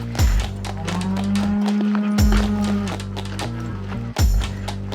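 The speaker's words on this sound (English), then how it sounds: "or if you guys can hear the cows screaming in the background." Cattle mooing outdoors on a Colorado hiking trail, several long drawn-out low moos in succession, fairly clear against a quiet open background.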